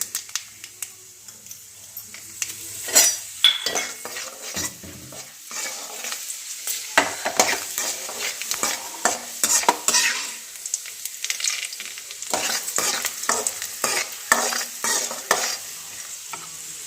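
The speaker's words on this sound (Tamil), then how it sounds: "இப்போ எண்ணெய் காஞ்சிருச்சுங்க கடுகு போட்டுடலாம் கடலை கடலைப்பருப்பு சேர்த்துக்கோங்க" Mustard seeds and chana dal crackle and sputter in hot oil for mango rice tempering, sharp irregular pops over a steady sizzle, close and fairly loud, with occasional stirring clinks.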